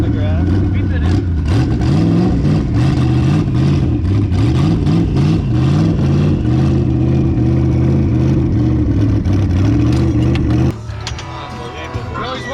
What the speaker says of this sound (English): Massive burn on the grass.